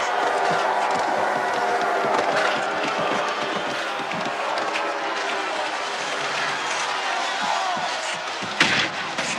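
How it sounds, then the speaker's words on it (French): A crowd at a junior ice hockey championship game applauds the visiting Tampa Bay Bombers, a dense, roaring wash of clapping and cheering that fills the arena steadily, with a sharp bang near the end. "Et maintenant, nous applaudissons très fort l'équipe des visiteurs."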